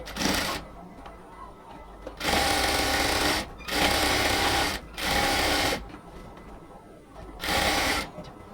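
A sewing machine stitches a cotton salwar leg in about five short, loud bursts, separated by quiet pauses filled with soft handling sounds.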